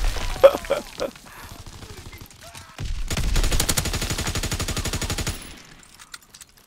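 Light machine gun firing in Call of Duty WW2, a sustained rapid burst of dense automatic fire lasting a few seconds, preceded by scattered shots and impacts, with no talk over it.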